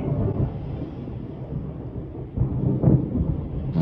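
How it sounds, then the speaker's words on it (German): Thunder rolls as a long, low rumble throughout, swelling a little louder near the end, with no voices over it. "Donnerwetter."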